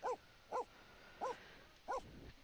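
A dog in The Sims video game barking at rabbits: four short, evenly spaced barks, faint and somewhat distant over a quiet background.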